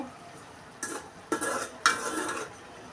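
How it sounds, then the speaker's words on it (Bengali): Vegetable curry of mixed greens stems being stirred in a pan, three scraping spoon strokes against the metal over a soft background sizzle. "নেড়ে আর একটু কষিয়ে নিব"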